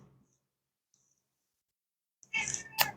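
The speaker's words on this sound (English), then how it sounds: "I have a cat." A house cat lets out a single short meow after a long quiet stretch, ending in a sharp click, fairly close and clear.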